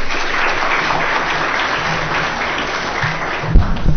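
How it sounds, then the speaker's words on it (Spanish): An audience at a law faculty conference gives steady, sustained applause to welcome a guest lecturer, a dense wash of clapping filling the room throughout, with a brief thump near the end. "doctor Gino Ríos Patio, quien lo recibimos con cálidos aplausos"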